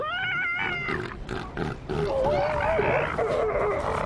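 Elephant seals in their natural habitat bellow and groan with deep, wavering, pig-like calls, several overlapping loud cries across the whole stretch, close by and without voices.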